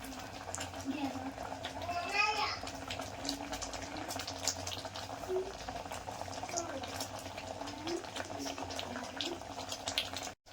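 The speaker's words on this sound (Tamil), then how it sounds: "தீயில் வந்து கொதிக்க விடணும்" Kerala-style nendran banana payasam with coconut milk bubbles and simmers steadily in a pot, a soft continuous gurgle with someone talking over it.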